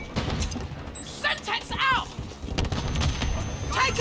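A grenade explodes amid heavy gunfire in Call of Duty Modern Warfare III, with booming blasts and crackling shots layered close together over a noisy firefight while someone talks over the action.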